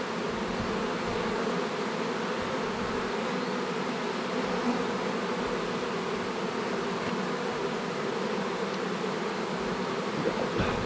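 Honey bees buzz steadily around a hive, a dense, continuous drone of many insects close by, with no voices over it.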